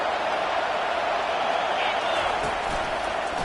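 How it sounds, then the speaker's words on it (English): Steady roar of a stadium crowd at an American football game in a video game, a dense, continuous wash of cheering and crowd noise without a break, with no clear single voice standing out. "This crowd bringing the energy and noise early"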